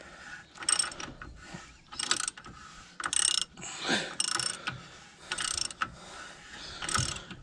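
A ratchet with an 18mm socket turns on the inner track rod of a 2000–2007 Volvo V70, making close, repeated bursts of rapid clicking, about eight short runs of ratcheting separated by brief pauses.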